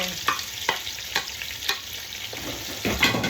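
Onions frying crispy in a pan, a close sizzle broken by a few sharp spatula scrapes and stirs at an irregular rhythm, with no voices.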